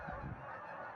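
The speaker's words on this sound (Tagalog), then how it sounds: "Ayan, tingnan niyo yung mga ibon, no?" Flock of migratory geese honking outdoors on a sunny day, a dense overlapping chorus of calls held steady through a short moment with no talk.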